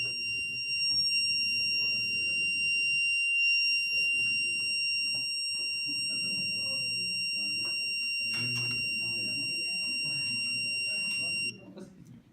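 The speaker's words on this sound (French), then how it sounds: "Le buzzer va sonner." A steady high electronic buzzer tone from a Raspberry Pi connected-object project sounds continuously, with muffled talking and handling noise underneath, then stops abruptly near the end.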